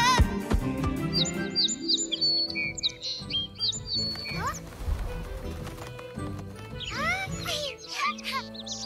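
Birds chirp and tweet in quick high bursts, drawn by reed bait in an animated children's cartoon, mixed with music, clip-clop-like effects and voices talking.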